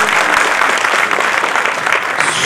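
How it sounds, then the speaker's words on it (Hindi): Loud audience applause at a felicitation and book release event in Bhopal, greeting a kathak dancer, a dense continuous clapping from a crowd that fades slightly near the end. "जोरदार तालियां श्रीमती क्षमा के लिए।"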